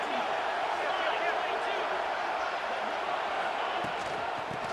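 Stadium crowd roaring steadily throughout a College Football 26 video game, a broad continuous cheer holding at a loud level from start to finish.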